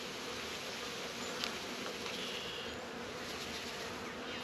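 Honey bees buzzing in an opened hive during a spring check, a dense continuous drone, quiet and steady throughout with no talking.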